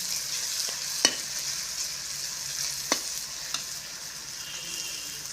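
Onion and tomato masala for an eggplant dish sizzles and fries quietly in a pan, a soft steady hiss broken by a few sharp clinks of a stirring spoon against the pan.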